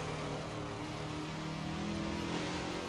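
A Ford GT40 race car engine held at a steady, droning revs in the racing simulator Assetto Corsa, a continuous loud mid-pitched hum with a slight rise in pitch toward the end.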